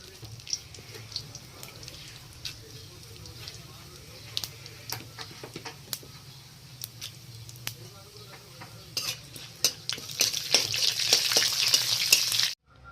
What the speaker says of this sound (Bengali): তেল গরম হয়ে গেছে এবার দিয়ে দিব গোটা গরম মশলা আর তেজপাতা আর